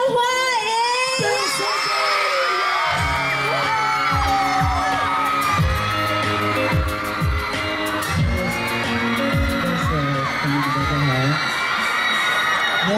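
A crowd cheers, whoops and shouts over loud music with heavy percussive hits at a Halloween costume concert, part of the 2013 New Taipei City business-district carnival at the outdoor Citizen Plaza. The noise stays dense and steady throughout.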